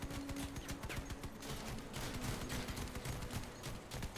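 A steady rattle of rapid gunfire keeps going with no let-up during a vehicle battle in the video game Crossout, where enemy rammers carry shotguns. It stays fairly faint and even throughout, with no talk.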